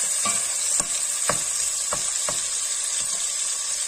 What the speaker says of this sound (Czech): Smažíme.